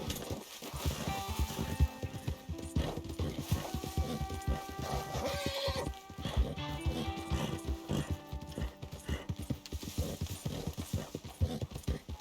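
Rhythmic hoofbeats of a video game horse, a steady clip-clop under layered game music and effects, continuous and fairly loud throughout.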